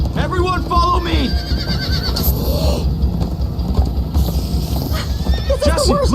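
Horses neighing and whinnying repeatedly over galloping clip-clop hooves in the Minecraft: Story Mode video game, loud and close, with voices talking over them.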